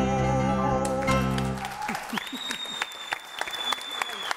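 A television studio audience claps during a Christmas Day broadcast, a scattered run of claps under a lingering tonal sound and music that fades, with the clapping continuing fairly close by.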